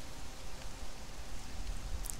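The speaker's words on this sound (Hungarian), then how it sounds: "Szakad az eső, szokás szerint." Heavy rain falls in the video game Conan Exiles, a constant soft hiss of downpour without voices.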